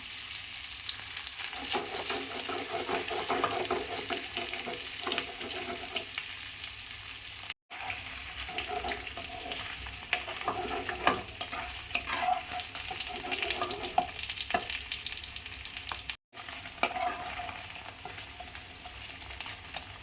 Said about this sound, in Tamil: கட் பண்ண பன்னீர்லாம் பட்டரில் பொரிச்சிக்கலாம்.